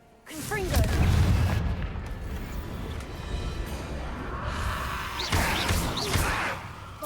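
A Confringo blasting spell explodes in Hogwarts Legacy, with a loud booming burst near the start followed by rumbling debris and another blast later, amid game sounds and voices.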